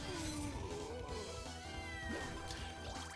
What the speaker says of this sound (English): once you save the cats, you never have to hear their bullcrap again